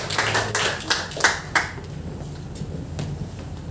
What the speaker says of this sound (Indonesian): Kasih tepuk tangan dulu bagi Tuhan Yesus.